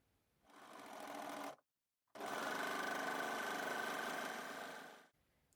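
An overlocker runs through a test piece of fabric at settings of 4, in two steady mechanical whirring bursts separated by a short pause, close and fairly loud.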